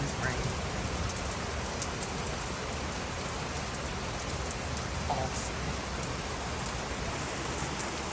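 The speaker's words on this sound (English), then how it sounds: "Just listen to this rain." Heavy, steady rain pours down in a continuous hiss with occasional louder drops close by, and one short spoken remark rises briefly over the downpour.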